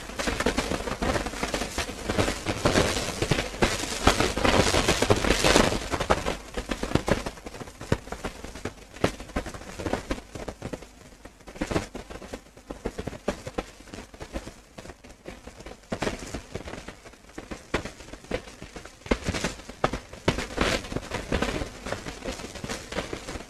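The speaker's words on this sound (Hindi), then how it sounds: "बारिश की आवाज आ रही है?" Heavy rain falls steadily, a dense, continuous crackling patter that fills the whole stretch, loudest early on and easing slightly toward the end, with no voices.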